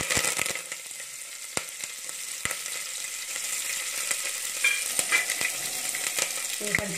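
Onions and curry leaves frying in hot oil in a pressure cooker for aloo masala curry, a steady close sizzle punctuated by sharp crackles and pops, with occasional stirring scrapes and no talking.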